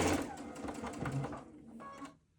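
Domestic sewing machine stitching large LeMoyne Star quilt blocks, a steady close mechanical whirr for about two seconds that slows and stops near the end.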